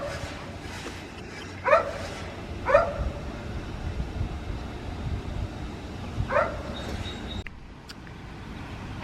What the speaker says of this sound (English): I had to go inside before because that dog was barking.